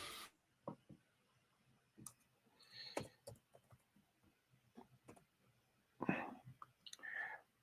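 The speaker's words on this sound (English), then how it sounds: "I'm doing some typing here." Computer keyboard typing: sparse, quiet clicks and taps at an uneven rhythm, close by in a quiet room, with a few brief rustles and louder knocks.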